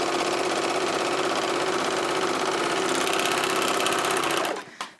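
An Elna sewing machine stitches fabric at a fast, even, whirring rhythm, close and steady for over four seconds before slowing and stopping with a few final clicks.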